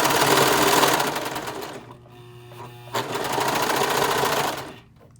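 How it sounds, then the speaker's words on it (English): A loud serger overlock sewing machine, trimming fabric edges while stitching a scrunchie, whirs in a fast, dense mechanical buzz, drops off briefly for about a second, then runs again before stopping, with no talking. "Okay, so this is my serger."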